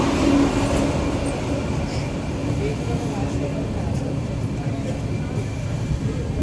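An Amrit Bharat train pulls out of Palakkad Junction after a 15-minute halt on its first commercial run, a steady low rumble of carriages heard from onboard, with talk over it.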